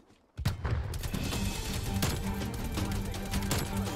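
Sustained automatic assault rifle fire from an AK-47 in the game Call of Duty: Cold War, erupting abruptly and rattling on as dense, continuous bursts close up, with no pauses.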